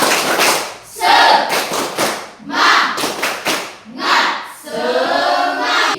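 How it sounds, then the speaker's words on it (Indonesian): A classroom of pupils doing the tepuk semangat spirit clap, with bursts of rhythmic group clapping and thumps alternating with chanted voices in repeated cycles, loud and close. "Tepuk semangat dong sekali lagi."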